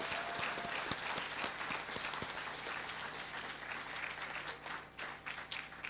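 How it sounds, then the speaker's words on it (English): A crowd at a graduation ceremony applauds the graduates, dense sustained clapping filling the hall, steady and fairly loud throughout with a few sharper claps standing out. "I want each and every one of us to join me in applauding you as we congratulate you"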